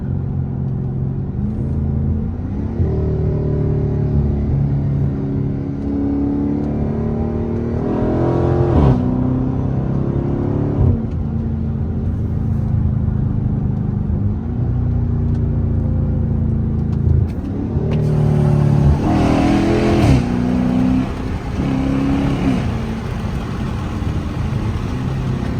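A Chrysler 300S with a 5.7 V8 and loud exhaust accelerates hard on backroads, its deep engine note climbing through gears with paddle-shifted upshifts marked by brief dips, heard from inside the car.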